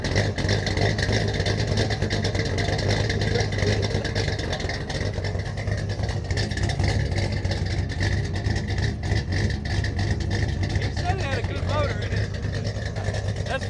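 An AC-cab truck engine idles steadily with a high squealing belt whining over the low rumble, the running motor close and continuous while a person talks near it.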